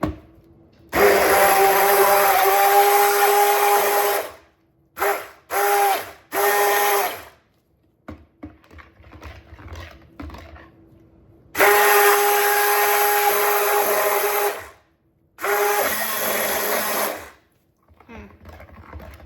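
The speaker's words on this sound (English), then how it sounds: "This is a new stick blender, immersion blender" An immersion stick blender whirs loudly in several bursts while mixing soap: two long runs and a few short stuttering pulses, with quiet pauses between.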